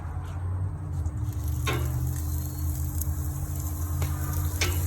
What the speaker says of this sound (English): You can hear that sizzle, that's good.